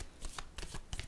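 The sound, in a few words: tarot cards being shuffled and drawn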